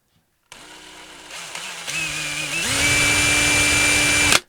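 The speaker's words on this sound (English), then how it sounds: "you want to drill at the apex of this cut here" Power drill boring into a tube for a DIY rocket-launching tripwire, its close motor whine stepping up in pitch and loudness as the bit bites, then stopping abruptly.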